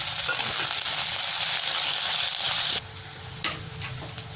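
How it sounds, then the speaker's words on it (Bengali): Onions fry with garlic in oil for Bengali-style aloo dum. A steady, bright sizzle holds for a few seconds, then drops to a quieter hiss with a faint clink. "এবার আমি পেঁয়াজ দিয়ে দিলাম, এটাকে একটু লাল লাল করে ভেজে নেব।"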